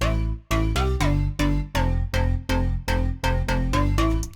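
Avenger synth layer plays punchy, bright stabs in a steady rhythm, roughly ten evenly spaced notes with a faint pitch glide on each, loud and alone.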